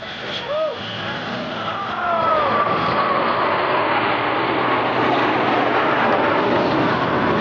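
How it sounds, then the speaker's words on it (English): Blue Angels jet aircraft approaching the flight line at about 400 miles per hour during a 2025 airshow at MCAS Beaufort, South Carolina, a loud broad roar that swells and holds steady, with crowd noise beneath. "Blue Angels 5 and 6 are approaching the flight line at 400 miles per hour."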